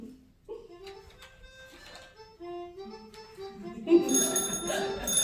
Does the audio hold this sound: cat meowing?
no